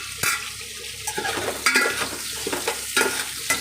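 Vegetables sizzle and fry in hot oil for sambar, with steady crackling, several sharp scraping stirs of a utensil against the pan, and no talking.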